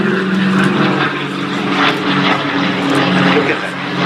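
A Douglas propeller airliner flies a display pass at Duxford, its piston engines giving a continuous droning rumble with swelling surges, heard over a commentator talking throughout.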